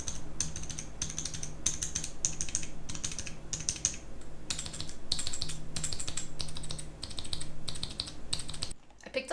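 Rapid bursts of typing on a custom Topre keyboard, comparing stock Realforce housings against TAB housings and sliders with DCS keycaps, giving close, steady clusters of muted thocky keystrokes with brief pauses between runs.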